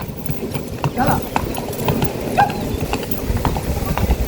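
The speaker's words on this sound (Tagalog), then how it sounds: "And watch a horse." A horse walks with steady clip-clopping hooves at a seaside family outing in Jubail, Saudi Arabia, mixed into ongoing talk and general outdoor bustle.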